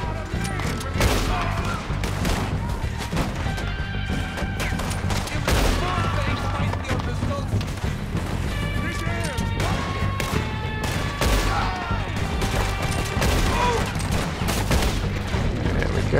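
Rapid, dense gunfire in a Red Dead Redemption 2 shootout, shots cracking continuously and overlapping throughout amid other battle noise, with a voice talking at times.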